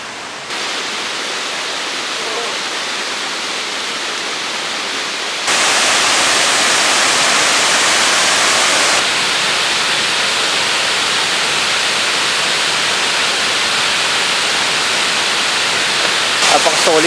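Water rushing at a waterfall near a campsite: a loud, continuous broadband roar that steps up in level partway through and holds steady.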